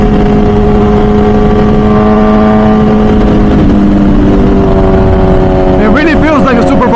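An MV Agusta Brutale 1000 RR naked superbike of about 215 hp laps the Nürburgring, its engine a loud, steady, close drone that climbs in pitch toward the end.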